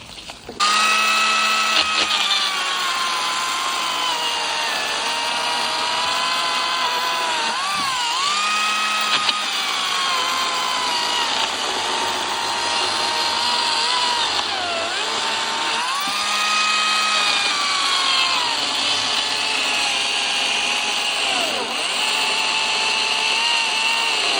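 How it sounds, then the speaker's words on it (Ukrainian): A Makita DUC254 cordless chainsaw cuts through dry wood, its steady high electric whine running loud and continuous, dipping briefly under load several times as the chain bites. "Бачите, сухе дерево пиляє прекрасно"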